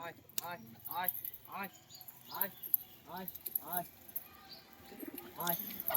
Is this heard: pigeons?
yes